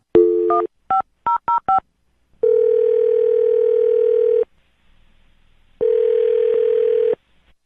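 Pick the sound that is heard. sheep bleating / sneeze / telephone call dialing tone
telephone call dialing tone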